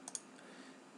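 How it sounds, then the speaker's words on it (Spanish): Two quick, faint computer mouse clicks close together at the start, then quiet room tone, made while working in SolidWorks CAD software. "Voy a darle un clic aquí"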